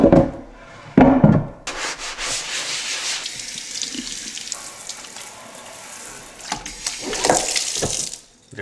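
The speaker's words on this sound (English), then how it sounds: "And then I'm just gonna wash with hot soapy water like I normally would." A cutting board is scrubbed and rinsed under hot soapy water, giving steady running-water hiss and scrubbing friction with a few louder bursts of splashing, close by and with no talk.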